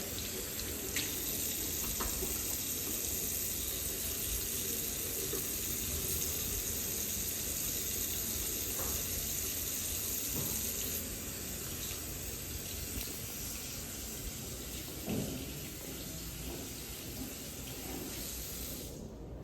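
Continuous hiss of tap water running into a sink, steady and close, with faint splashing changes as hands move under the stream.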